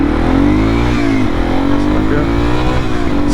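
Yamaha TW200 dual-sport motorcycle engine at near full throttle, a loud, close, rising drone with a steady rumble as the bike accelerates hard on the road.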